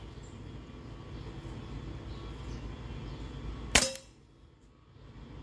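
A single sharp, loud crack from a .43 caliber paintball gun, fired once after a stretch of steady low background noise, followed by near silence as it empties.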